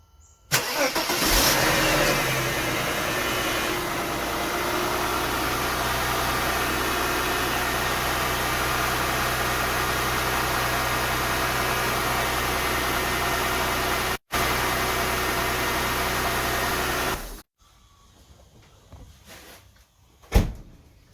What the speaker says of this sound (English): let's go start the car.